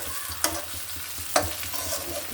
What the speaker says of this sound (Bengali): এটা আমি একটু ভেজে নিব এখানে দিয়ে দিচ্ছি একটা তেজপাতা